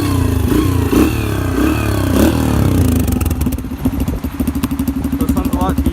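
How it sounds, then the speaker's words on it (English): A motorcycle with a modified stock exhaust pipe idles and then revs in a few rising bursts, loud and close, with a deep throaty tone and pops between throttle blips. "I'll start it up and give it a few revs"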